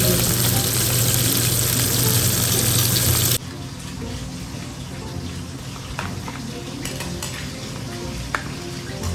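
Loud, steady sizzling of food frying in a pan, which drops to a quieter crackle partway through, with faint clinks of utensils.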